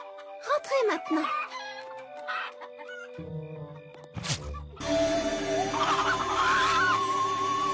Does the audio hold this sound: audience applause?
no